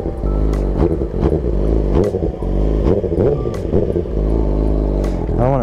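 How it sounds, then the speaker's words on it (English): A motorcycle engine, warm started, runs at a steady loud idle with a rough rhythmic putter and clatter close by, the pitch wavering slightly, while a person talks over it. "we're gonna start the bike up to start this video"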